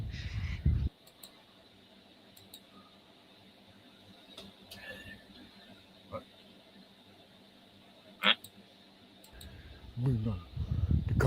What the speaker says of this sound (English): Cockatoos, there's cockatoos.